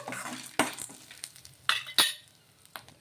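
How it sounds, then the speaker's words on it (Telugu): Roasted gram dal stirred with green chilies in hot oil, a soft sizzle with a few sharp scraping strokes and light clinks of a spoon against the pan. "ఇలా పుట్నాల పప్పును కూడా వేసుకొని ఒకసారి బాగా కలిపేసుకుందాము"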